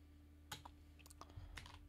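Keys tapped on a computer keyboard while editing CSS code, a sparse irregular patter of close, quiet clicks over a steady low hum.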